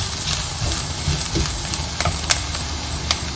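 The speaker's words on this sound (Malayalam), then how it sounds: "മുളക് പൊടി നന്നായിട്ട് മിക്സ് ചെയ്തെടുക്കാം." Chili powder being stirred into spices frying in a pan: a steady, close sizzle with scattered spoon scrapes and small ticks throughout, no voices.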